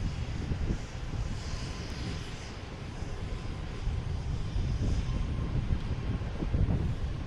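JetBlue Airbus A320 arriving from Fort Lauderdale at Boston Logan, a steady broadband jet engine roar with low rumble that swells slightly louder toward the end, mixed with some wind buffeting and no voices.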